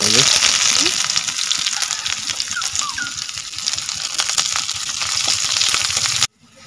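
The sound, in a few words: onions frying in hot oil for goat head curry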